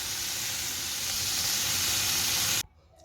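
Potato cutlet mixture sizzles and fries in a covered pan, a loud, steady hiss that runs continuously and then cuts off abruptly near the end, leaving near silence.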